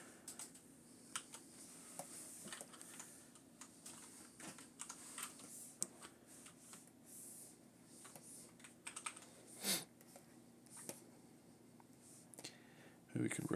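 Typing on a computer keyboard, with quick, light key clicks in irregular bursts and a few sharper taps, close and fairly quiet.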